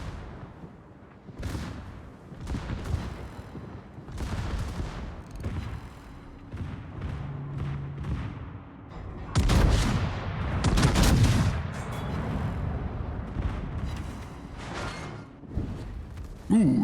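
Warship turret guns firing in World of Warships, booming salvos and explosions scattered across a busy naval battle, with a heavier cluster of blasts midway and faint talk underneath.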